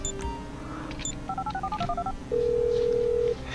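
Mobile phone keypad in Grand Theft Auto V tapping out a quick run of about a dozen dialing tones, followed by one long steady tone, heard close and clear over faint game background.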